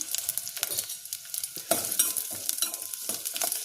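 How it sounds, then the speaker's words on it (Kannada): Small onions, garlic and ginger frying in a spoonful of oil, a close crackling sizzle broken by quick, busy stirring scrapes. "ಈರುಳ್ಳಿನ ಫ್ರೈ ಮಾಡ್ಕೊತಾ ಇದ್ದೀನಿ"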